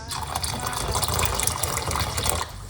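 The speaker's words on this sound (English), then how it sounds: "We're gonna pour a little bit more water on this." Water pours from close range over rosemary, ginger and clove steeping for an herbal tea, a steady splashing gush that fills the container without pause and no one speaking.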